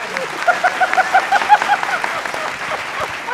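Audience applause breaking out at a live Hindi political satire show, a ragged burst of clapping that swells and fades over a few seconds with speech-like chatter mixed in.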